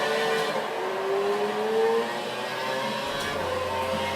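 Onboard a Formula 1 car at a race start at Silverstone in the F1 2011 video game, the engine revs steadily upward through rising gear tones, loud and continuous with a constant whir beneath.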